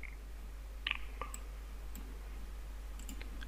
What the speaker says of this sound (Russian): Кликаем по ней.